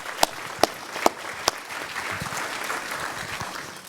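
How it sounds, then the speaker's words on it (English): Audience at a congressional event on AI gives a soft, distant round of applause, with a few sharp louder claps standing out early before the patter settles into an even wash. "So please help welcome our speakers with a warm round of applause,"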